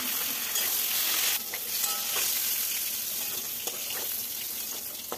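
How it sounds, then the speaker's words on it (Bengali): Pointed gourd (potol) frying in hot oil, a loud, continuous close-up sizzle with crackling spatter and occasional stirring, no talking. "বাকি পটলগুলো একইভাবে আমি ভেজে নেব।"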